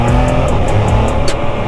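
A Can-Am Spyder RT Limited three-wheeled motorcycle engine runs loud and close in second gear, holding a steady rising drone as it accelerates, with no voices.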